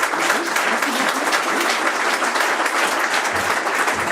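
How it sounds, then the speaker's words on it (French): Audience applause at a real-estate awards ceremony for the best developer projects, a dense, steady wash of clapping from a crowd that carries on for several seconds. "On peut l'applaudir"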